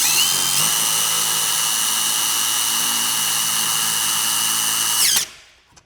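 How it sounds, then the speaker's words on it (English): An impact drill drives a self-tapping lag screw while mounting a Chamberlain RJO20 wall-mount garage door opener, a loud steady whine for about five seconds before stopping abruptly and fading. "Should be able to just send those home if you've got an impact drill without having to bother with pilot holes."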